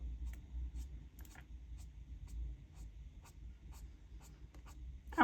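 Grabie acrylic marker pens scratching and dabbing on paper in short, soft, irregular strokes, close and fairly quiet over a low steady background rumble, with no talking.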